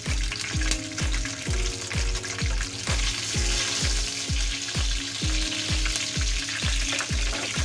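Chicken and potatoes fry in a pan with a loud, steady sizzle, while regular rhythmic knocks repeat about twice a second throughout.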